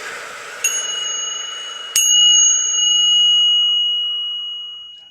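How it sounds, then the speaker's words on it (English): Two bright bell dings, the second louder, each leaving a long clear ringing tone that slowly fades over several seconds. "I enjoy beginning these sessions with a little ding of my lovely bells"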